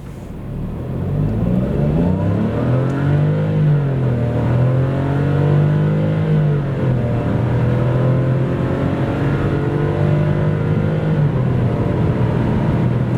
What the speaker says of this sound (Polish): Realnie tak aktualnie stonik przyspiesza od 0 do setki.